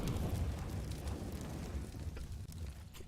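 Molotov fire burning in a Counter-Strike match, a steady roaring, crackling wash that stays loud and dense throughout with no speech over it.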